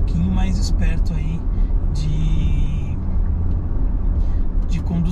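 An Audi Q5 switched into dynamic mode drops a gear, its engine rumbling low and steady inside the cabin while someone talks over it.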